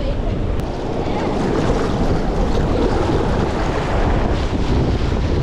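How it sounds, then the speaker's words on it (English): Waves rolling in at Goolwa Beach as the tide comes in, a continuous loud wash of surf mixed with heavy wind buffeting on the microphone. "Maybe it's tide coming in."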